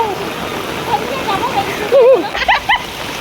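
Floodwater pours down from a roof during heavy rain in a flooded area, a steady close splashing rush with voices talking over it.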